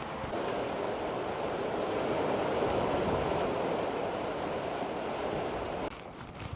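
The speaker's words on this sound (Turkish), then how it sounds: "Aşağıya doğru indikçe rüzgarın sesini daha duyar oldum." Strong southwest lodos wind and surf at Kumbahçe beach in Bodrum, a steady loud roar of gusts and breaking waves buffeting the microphone with no speech, easing slightly near the end.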